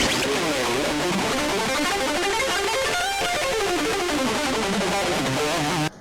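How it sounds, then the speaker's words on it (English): Heavily distorted electric guitar, an exaggerated 80s-style distortion tone from a GTRS smart guitar, playing continuously, a thick saturated wall of sound with a sudden stop at the end. "Into this really exaggerated like 80s distortion."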